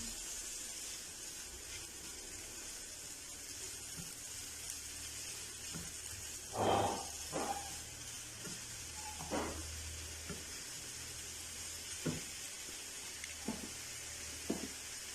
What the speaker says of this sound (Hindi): यहाँ चीनी के कैरामलाइज होने तक, थोड़ी सी मेल्ट होने तक भी हमने इसे सौते करना है